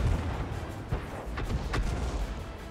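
Artillery fire in World of Tanks comes as a run of dull booming shots, a few sharper cracks standing out over a rumbling battle bed, with no voices over it.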